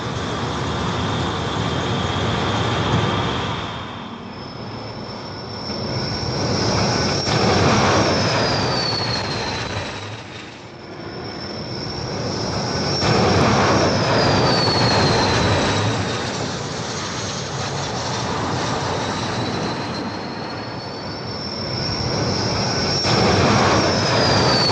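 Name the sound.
jet aircraft landing on an aircraft carrier deck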